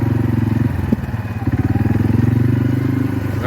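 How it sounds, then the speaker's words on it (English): A loud, chugging quad bike engine runs steadily close by in four-wheel drive, with a rhythmic throb and a brief clunk, pushing through a muddy gap on a cattle farm. "That's why I love quads."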